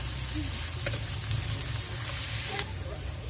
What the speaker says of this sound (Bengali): পেঁয়াজটা ভেজে নেব লাল লাল করে